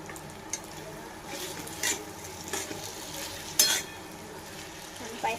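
Turmeric goes into sabudana khichdi cooking in a pan, with a soft continuous sizzle and a few brief scraping stirs of a utensil against the pan, close and fairly quiet, and no speech.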